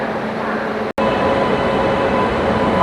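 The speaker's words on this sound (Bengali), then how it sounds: "একদম অন টাইমই ছাড়লো কলকাতা থেকে" The 03161 Kolkata-Digha Special Express departs Kolkata, its steady loud rumble and rolling rail noise filling the scene, interrupted by one momentary dropout.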